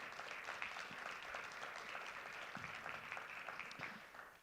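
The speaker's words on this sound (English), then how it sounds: "raise your hand or clap for the educators" An audience claps for the educators at a Black History Month opening ceremony at College of DuPage, with steady, sustained applause from a crowd that continues throughout without any speech.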